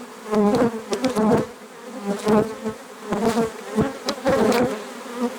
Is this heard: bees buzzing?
yes